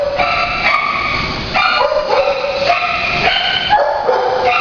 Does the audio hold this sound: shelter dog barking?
yes